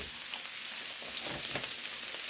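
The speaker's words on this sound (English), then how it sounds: "we're just gonna saute that really good" Celery, onion and red pepper sautéing in a pan for hamburger hash chili, a dense, even crackling sizzle throughout with faint spatters, close and without talk.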